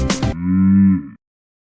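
A single cow moos once in a long, steady, close tone lasting under a second, preceded by a brief burst of other sound and then silence.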